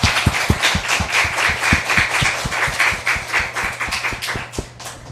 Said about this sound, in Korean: 말씀을 전해주신 선교사님께 감사의 박수 한번